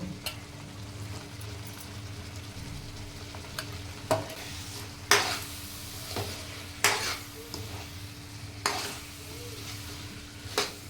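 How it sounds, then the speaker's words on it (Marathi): Mixed vegetables being sautéed in homemade black masala for a Sankranti bhogi bhaji, a soft continuous sizzle broken by several distinct spatula scrapes and stirs against the pan at irregular intervals, no voices. "सगळ्या भाज्या मसाल्यामध्येच परतून घ्यायचे"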